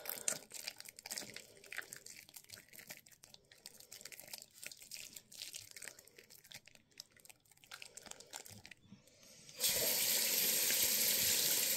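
Tap water runs steadily while shampoo is rinsed out, with a close splashing flow that stays fairly low for most of the stretch, then abruptly swells to a loud, dense, even rush near the end.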